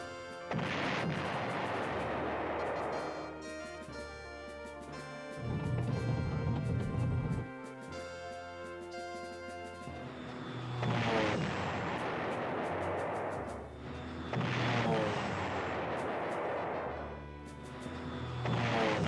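Artillery and aircraft strafing fire from the PlayStation 1 war game Panzer General come in several loud waves of booming, crackling gunfire and explosions, with brief lulls between bursts and no talk.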